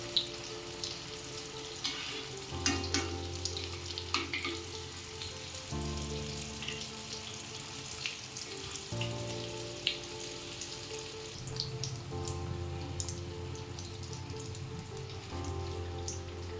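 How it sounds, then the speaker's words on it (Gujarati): Paneer cheese papad rolls deep frying in hot oil in a kadai, giving a continuous close bubbling sizzle with crackling pops and occasional shifts in tone as the rolls are turned. "ફ્રાય કરીશું પાપડ રોલને"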